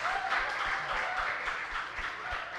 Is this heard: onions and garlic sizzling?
no